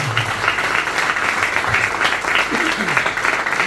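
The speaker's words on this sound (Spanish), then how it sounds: "Vamos a darle un aplauso fuerte al Señor" A church congregation at a Spanish-language service applauds loudly and steadily, many hands clapping in a dense, continuous wash.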